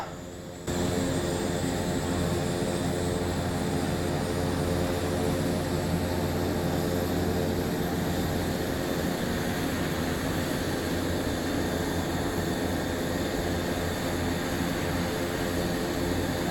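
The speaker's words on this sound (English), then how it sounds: "so we can hear the engine spool up" A jet engine of a Black Square Starship aircraft in a flight simulator game spools up and holds a loud, steady roar with a rising high whine, continuous for the whole stretch, with no voices.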